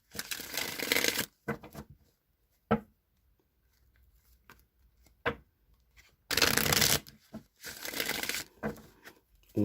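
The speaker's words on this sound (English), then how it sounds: "I'm going to go ahead and shuffle the Rider-Waite deck real quick" A Rider-Waite tarot deck is shuffled in several brisk riffling bursts, close and crisp, separated by quiet gaps with small card taps and handling noises.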